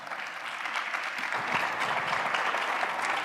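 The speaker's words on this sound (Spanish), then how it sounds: "Un aplauso, por favor, también para ella, ¿no?" An audience at a tourism conference in Spain breaks into applause, a steady wash of clapping that swells and holds, with faint talk at the very start.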